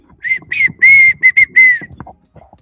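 Someone whistles a short, bright, clear tune close by, a series of sustained notes and quick chirps, followed by faint background noise.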